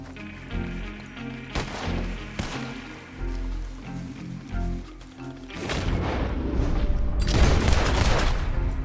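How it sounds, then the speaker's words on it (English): A gun in Red Dead Redemption 2 fires repeatedly: sharp, loud shots with a few booming reports, over a backdrop of game music, becoming denser in the final seconds. "Liking the sound of this gun."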